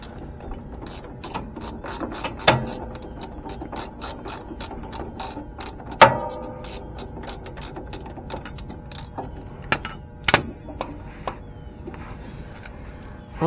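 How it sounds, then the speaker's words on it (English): A ratchet wrench turns a bolt on a Briggs 15HP flathead engine on a Craftsman LT1000 mower, making rapid rhythmic clicking in bursts with a few louder metallic knocks, close and clear. "It's not easy to get to still, but at least you can use a wrench on it."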